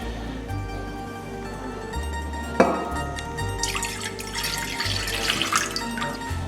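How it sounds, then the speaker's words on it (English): Cold water from the fridge poured into a container for pizza poolish, a close splashing trickle that builds into a fuller pour over several seconds. "Here's 300 ml of cold water from the fridge."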